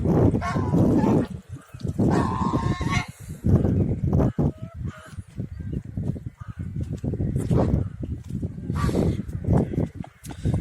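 Mixed domestic and Chinese geese on a farm give loud, close, repeated honks in irregular bursts, overlapping one another, with brief gaps between calls.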